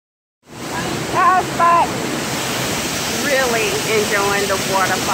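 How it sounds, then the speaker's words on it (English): A waterfall on a hiking trail roars with a steady, loud wash of rushing water close by, and voices talk briefly over it. "Enjoying the waterfall."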